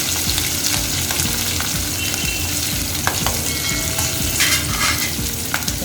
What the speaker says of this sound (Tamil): சேர்த்து ரெண்டையுமே நல்லா வதக்கிடுவோம்